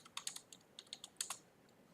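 Quick bursts of typing on a computer keyboard, close and quiet, with irregular clusters of key presses across two seconds and brief pauses between them.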